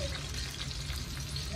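A piece of cinnamon stick sizzles in hot oil with cardamom and cloves for a squid masala, a steady, close frying hiss that carries on without a break.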